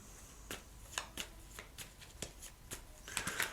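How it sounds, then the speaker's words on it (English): Tarot cards being shuffled by hand, a run of crisp riffling snaps and soft card slaps in uneven rhythm, close but fairly quiet, with no voices. "So let me just shuffle these cards up,"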